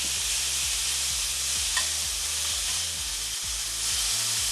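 Thinly shaved beef hitting hot peanut oil in a pan gives a loud, even, continuous sizzle with a low rhythmic rumble beneath, heard up close with no voices.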